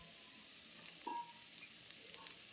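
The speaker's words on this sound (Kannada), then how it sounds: "ಎಲ್ಲವನ್ನು ಎಣ್ಣೆಯಲ್ಲೇ ಹುರ್ಕೋಬೇಕು" Grated coconut frying in oil with tomato, salt and coriander leaves for a carrot chutney gives a faint, steady sizzling hiss, with a brief soft clink of a utensil partway through.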